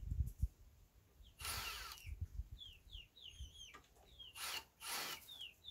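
Two bursts of an Einhell TE-CD Li BL cordless drill driver whirring as it sinks a 12x100 wood screw, each about a second long, with birds chirping and clucking in the background between them.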